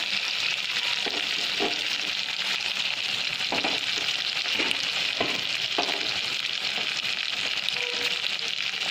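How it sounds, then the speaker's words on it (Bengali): Ginger garlic paste frying in a pan, a steady bright sizzle with periodic soft scraping knocks from stirring, close and continuous with no talk. "আদা রসুন পেস্ট দিয়ে দেবো দেড় চামচের মতো আদা রসুন বাটা দিয়ে দেবো"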